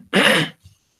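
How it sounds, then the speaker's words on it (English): One firm, loud throat clearing from a man leading a prayer service, a short burst followed by a faint second rasp, then silence. "I have to keep clearing my throat"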